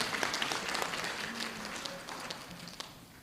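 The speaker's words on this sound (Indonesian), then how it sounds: "Tepuk tangan untuk kita semua bangsa Indonesia." Graduation ceremony audience at STIT Sirojul Falah Bogor applauds during a scholarly address, with dense clapping that starts strong and gradually softens, a few louder individual claps near the end.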